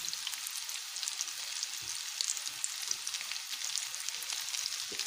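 Rice koftas deep-frying in hot oil until light golden, a steady close crackling sizzle with fine popping that carries on without pause and with no voices.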